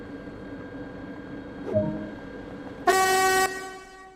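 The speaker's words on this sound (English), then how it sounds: "we always sound the horn on the train at the end of the platform when we do end our live streaming action" Train horn in the Train Sim World 2 railway simulator, sounded at the end of a platform: a brief low tone, then a loud steady chord held for about half a second that ends abruptly, with faint train rumble throughout.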